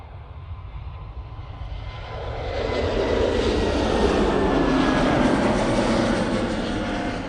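Jet engines of a Lufthansa airliner at Manchester Airport on a frosty day swell from a distant hum into a loud, sustained roar that holds steady as the aircraft passes close by.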